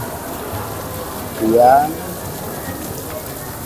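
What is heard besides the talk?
rain falling outside a mosque in Bali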